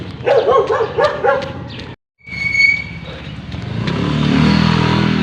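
A dog barks loudly several times in quick succession, close by, outdoors during a jog, followed by a brief gap and then rising traffic or engine rumble.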